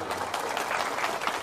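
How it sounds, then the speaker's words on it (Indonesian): Audience at a religious talk clapping together, a short burst of dense, even applause filling the room with no voices over it. "Coba tepuk tangan dulu."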